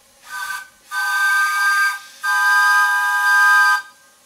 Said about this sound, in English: I now have a very good working pressure and the whistle works.